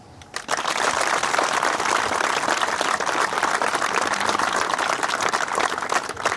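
A large audience applauds at an award ceremony for a youth football tournament in Lviv, a dense, loud, steady burst of clapping that starts abruptly and carries on without pause.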